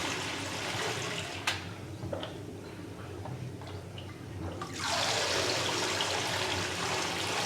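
Water drains and trickles from a freshly dunked part over a zinc plating rinse bath, with scattered clicks and drips, then a louder rushing pour of water takes over for the last few seconds.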